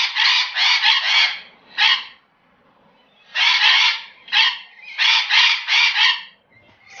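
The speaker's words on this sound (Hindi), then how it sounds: "स्कारलेट मकाओस ऊंची आवाज में कहकहे लगाते हैं और चीखते चलाते हैं।" Scarlet macaws let out loud, harsh screeches in repeated bursts, several calls clustered together with short pauses between them, close by and with no voices present.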